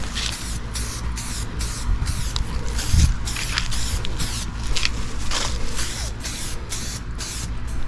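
An aerosol can sprays light coats of paint onto an electrical outlet cover outdoors, a steady hiss broken by short pulses as the nozzle is pressed and released.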